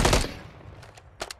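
Gunfire in Call of Duty, a loud close burst of rapid shots at the start, then a few quieter, more distant cracks and a final double shot.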